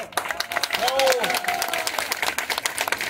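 Festival crowd applauding at a Virgin of Guadalupe stewardship-change celebration in Petaquillas, Guerrero, with scattered clapping under an announcer's voice and a brief whistle or tonal sweep partway through.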